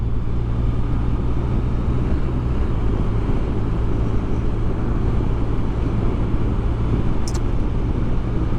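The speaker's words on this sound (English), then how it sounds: "you'll see us just accelerate through, so we're well out of his way" A BMW R1200RT motorcycle accelerating past a van on a road, its engine roar loud and steady throughout under heavy wind rush, with no talking.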